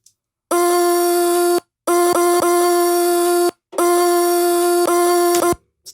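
Chopped vocal track arranged into a rhythm in Logic: three sustained, buzzy sung tones cut off abruptly with short gaps between, each carrying a few quick stuttered slices, loud and alone.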